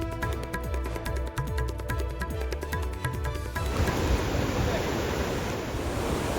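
Cloudburst floodwater surges through Dharamshala in Himachal Pradesh, carrying away a pickup truck. A rhythmic, tonal passage gives way midway to a loud, constant roaring rush of torrent and wind.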